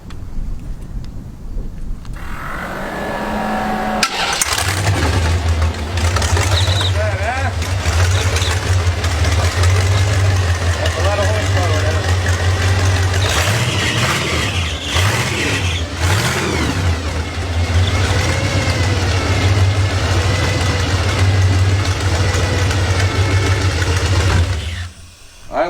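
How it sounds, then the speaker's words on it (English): A home-built dragster with a 4130 chromoly tube chassis cranks and fires up, then settles into a loud, steady, rumbling idle that lasts about twenty seconds before cutting off, close to the microphone with no talking. "Hey, you guys want to hear my dragster?"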